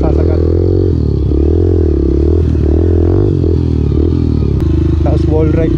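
Borrowed motorcycle engine running near a racetrack, steady low harmonic drone with pitch shifts as it revs, loud and close throughout, with a person speaking over it.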